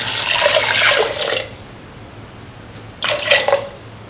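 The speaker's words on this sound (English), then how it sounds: "Now add 250 ml of water." Water is poured into a cooking pot holding a potato and mung bean mixture, in two splashy bursts: one of about a second and a half, then a shorter one after a quiet pause. The sound is close and fairly loud, with no talk.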